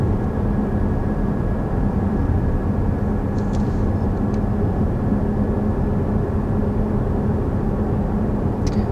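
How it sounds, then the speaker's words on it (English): Cabin of a 2021 Kia Stinger sport sedan cruising at 50 mph, a steady, even low road and wind hum with no talk, constant and subdued throughout. "cruising here at 50 miles per hour, it's extremely, extremely quiet in here"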